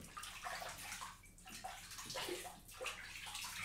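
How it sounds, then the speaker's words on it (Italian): Water splashes and sloshes at a sink while a face is rinsed before a wet shave, a steady run of close, moderately loud splashing with no voices. "Goccetto di acqua, giusto per, sciacquo il visetto"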